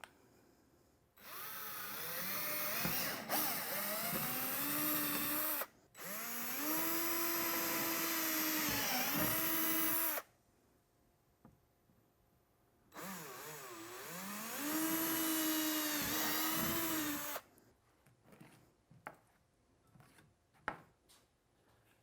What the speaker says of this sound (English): it's time to drill the holes